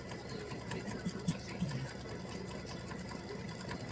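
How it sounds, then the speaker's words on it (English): An embroidery sewing machine satin-stitches a freestanding lace heart, giving a steady, low mechanical hum with faint rapid ticking throughout, continuous and moderately quiet. "it's doing satin stitching around"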